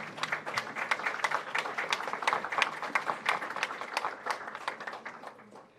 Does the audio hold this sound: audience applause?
yes